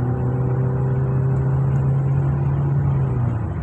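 A Honda Accord engine with a CVT transmission fault runs close and loud, giving a steady, continuous droning hum with no clear revving or knocking.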